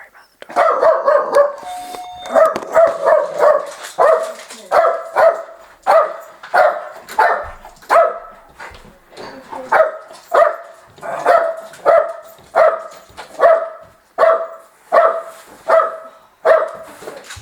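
A dog barks over and over in a steady, insistent rhythm, loud and close, with short yelping barks repeating roughly every second, alone in the room.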